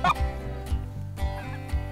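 White-fronted geese called during a waterfowl hunt, several loud honking, gobbling calls repeating in a steady rhythm about every half second, close and clear with no talk over them.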